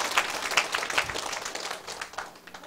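An audience at a lecture session claps in a brief scattered burst, uneven hand claps that thin out over a few seconds.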